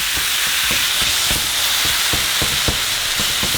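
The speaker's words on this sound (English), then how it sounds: "so once it's hot, we're going to add our meat. And now we're just going to cook it." Pieces of pork adobada meat fry in a hot pan with a loud, continuous hiss and sizzle, broken by repeated scrapes and knocks of stirring; no one speaks.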